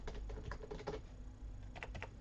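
Keys on an Alienware TactX keyboard, including the backspace, are pressed in a quick run of soft, fairly quiet clicks and taps. After a short pause, a few more keystrokes follow nearby.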